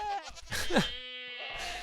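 A screaming goat in the video game Minecraft lets out a harsh, strained bleating scream that rises then holds a long buzzing tone, close and loud, with a brief bleat before it.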